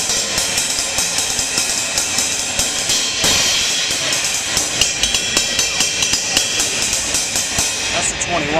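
A Zildjian 21-inch satin finish ride cymbal is played in a steady stream of dry, close strokes with a sustained metallic wash and no pauses, heard at a trade show.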